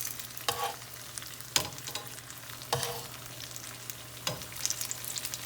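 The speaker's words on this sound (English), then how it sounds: "And you can see it sizzling right away." Corn flake crusted chicken tenders sizzling in a pan of hot frying oil, a steady close crackle with several louder bursts as pieces are placed in, and no voices.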